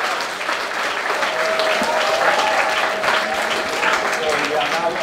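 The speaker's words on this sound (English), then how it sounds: "can you please give a round of applause for everyone for round three?" Sustained audience applause at a poetry slam, steady and fairly loud throughout with a faint tonal whine running under the clapping.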